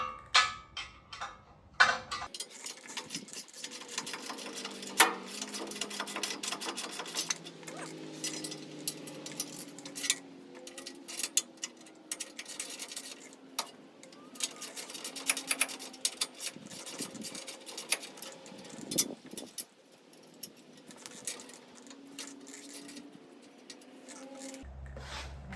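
Hand tools working on the bolts of a 1967 Jeep, with intermittent close metallic clicks, rubs and scrapes in irregular bursts and quiet gaps between them, with no talk.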